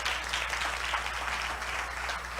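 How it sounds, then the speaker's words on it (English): Church congregation clapping for a woman during a sermon, a continuous even patter of many hands, moderately faint and somewhat distant, over a low steady hum. "Come on, clap her."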